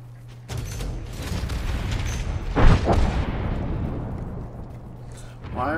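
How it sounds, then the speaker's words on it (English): Gravity cannons firing in a sci-fi shooter game, a deep booming blast rising to a loud burst mid-clip over a low hum, with other game noise and a voice near the end. "Why are gravity cannons going off everywhere?"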